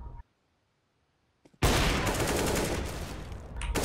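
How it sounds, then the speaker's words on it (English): Desert Eagle fire in CS:GO erupts after a near-silent gap with faint clicks, turning into a loud, dense stretch of gunfire that lasts to the end. "he's taking some shots with a deagle"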